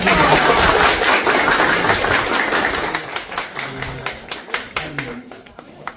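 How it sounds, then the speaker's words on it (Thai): Villagers at an informal community gathering on Koh Chang clap to welcome politician Pita Limjaroenrat, starting as loud dense applause that thins out into scattered individual claps toward the end. "ได้ถือโอกาสปรบมือต้อนรับท่าน พิธาลิ้มเจริญรัตน์"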